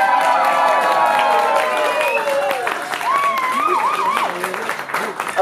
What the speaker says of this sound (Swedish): Annika, får vi en applåd?